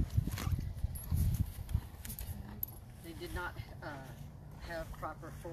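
Horses at a rescue walk on firm ground, their hooves clip-clopping in loose, uneven steps near the listener, busiest early on, while people talk over them.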